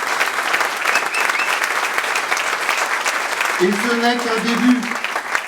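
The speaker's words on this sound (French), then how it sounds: "On peut s'applaudir." An audience at the launch of a local citizens' campaign in Rezé claps continuously in a dense, steady wash of applause while someone speaks over it near the end.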